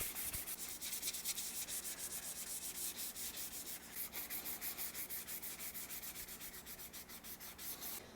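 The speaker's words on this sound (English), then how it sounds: "I want to sand this neck up to 400 grit." Sandpaper rubs a wooden guitar neck in steady, rhythmic back-and-forth strokes of even hissing friction, close but fairly quiet, continuing throughout with no speech.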